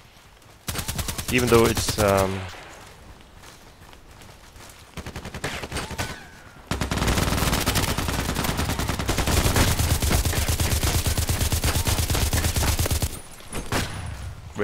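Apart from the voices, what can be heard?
HK416c gunfire in the video game Contract Wars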